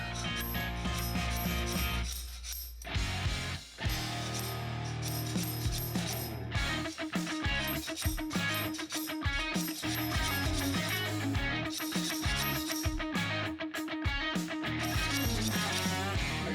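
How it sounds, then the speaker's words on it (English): A small puller is worked around on a motorcycle's Evo primary case to draw out a stuck part, giving a steady, busy run of metallic ratcheting clicks and mechanical clatter throughout, close and fairly loud. "I'll just keep at it with my little puller and keep working it around"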